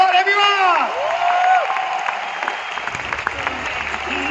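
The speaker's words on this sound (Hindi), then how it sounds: "एक बार जोरदार तालियां, कम ऑन एवरीवन।" Loud audience applause at the Vestige award event, rapid dense clapping with some cheering, while an amplified voice speaks over it at the start.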